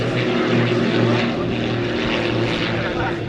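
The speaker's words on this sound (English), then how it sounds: "So you heard the great sounds of the aircraft" Classic propeller-driven aircraft drones overhead at an air show, a steady loud engine roar with a low throbbing hum that holds at nearly even volume throughout.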